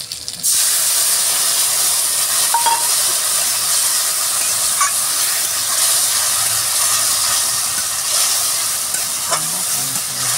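Potato, pointed gourd and onion fry in a pan with ginger, cumin, green chilli, coriander powder, garlic and turmeric, a loud steady sizzle and hiss close up with occasional stirring scrapes and no talking.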